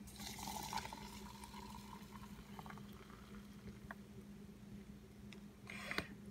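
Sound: pouring water into Zyliss coffee mug

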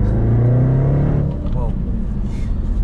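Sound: SUV exhaust roaring with valves open

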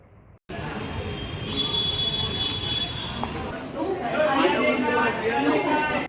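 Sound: busy railway station with train

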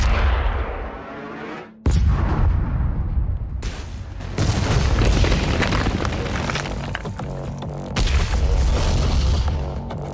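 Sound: large weapon firing and exploding in Doom Eternal video game

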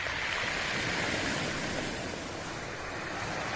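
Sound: Black Sea waves

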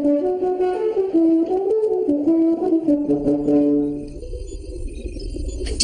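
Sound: French horn playing

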